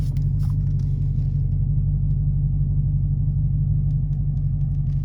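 A Dodge Hellcat idling and creeping while being parked, a steady deep engine rumble, close and loud and unbroken throughout, with no one speaking.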